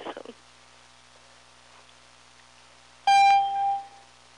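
Notification beep on a conference call as someone joins or leaves, a single clear electronic tone lasting about half a second that follows brief faint speech and a quiet pause.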